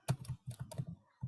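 Light, quick keystrokes on a computer keyboard tap out a short irregular burst of clicks, close and quiet, with brief pauses between groups.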